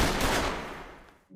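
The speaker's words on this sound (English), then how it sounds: "a silence that is only interrupted by the sound of gunfire" A short, loud burst of gunfire from the Chainsaw Man anime cracks up close, its rapid shots fading out after about a second.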